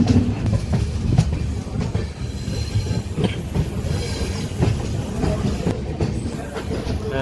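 Inside an unreserved coach of the Golconda Express between Vijayawada and Secunderabad, wheels beat a steady clickety-clack over rail joints, with a continuous rumble and occasional thin wheel squeals, loud and close throughout.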